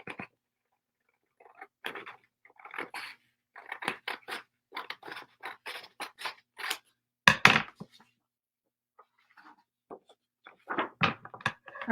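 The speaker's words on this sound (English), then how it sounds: "I'm going to go slightly inside this line here." Small leopard-print scissors snipping through paper along a drawn line, a run of short crisp cuts in quick irregular bursts, close and fairly quiet, with brief pauses between strokes and a louder snip partway through.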